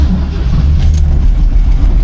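A 1972 Ford Mustang engine fires up and settles into a loud, steady low rumble close by, with no talk over it.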